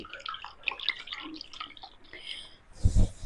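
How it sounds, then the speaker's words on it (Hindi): Half a spoon of yeast is stirred into water by hand, giving soft, irregular little splashes and drips in a quiet kitchen, followed by one louder slosh at the end. "पानी में मिलाएंगे और फिर इसको ऐसे ऐसे मिला लेंगे।"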